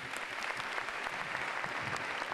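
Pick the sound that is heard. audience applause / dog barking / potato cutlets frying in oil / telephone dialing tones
audience applause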